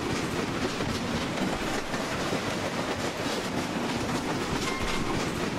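An LNER J50 steam locomotive in Train Simulator 2016 on the West Highland Line rolls along steadily, a continuous rumbling roar with faint rhythmic wheel clatter and no voices.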